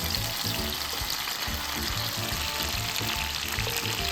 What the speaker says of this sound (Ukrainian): оливкова олія, додається на пательню, розігрівається. Потім додаємо наші томати.